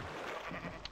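Sheep bleat in a Minecraft game, a short, faint bleat over a low game background.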